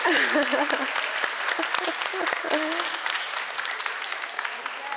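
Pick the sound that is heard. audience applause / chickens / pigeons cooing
audience applause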